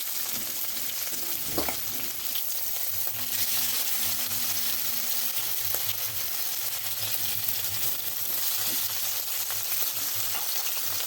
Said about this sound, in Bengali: এগুলো এরকম হালকা ভেজে তুলে নেব আমি মাছের তেলের মধ্যেই আরেকটু তেল দিয়ে দিচ্ছি